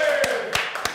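A few people in a cooking studio clap their hands in three separate, sharp bursts spaced across a second, over a steady background hum.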